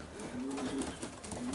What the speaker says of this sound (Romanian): mai am un porumbei de la bunul meu prieten